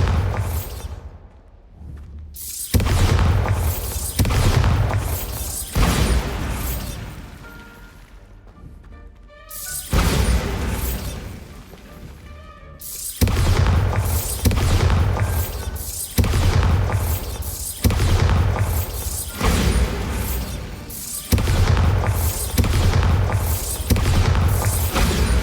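Repeated booming explosions from the Bombarda spell in Hogwarts Legacy, several heavy blasts with a crashing quality, separated by brief gaps and loud throughout.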